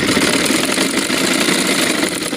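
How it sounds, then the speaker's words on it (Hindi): A sewing machine runs steadily, stitching gota lace onto a dupatta pallu, a close, continuous buzzing whir with no pauses. "तो चलिए हम मशीन पे चलते हैं, इस पर सिलाई लगाते हैं।"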